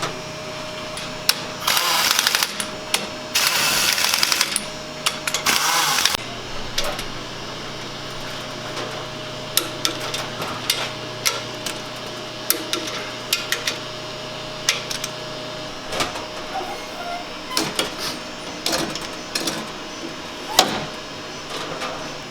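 A cylinder boring machine runs on its own on an engine block for a Four Winns boat engine. A steady mechanical hum is broken by bursts of cutting noise, sharp clicks and clanks, heard close by.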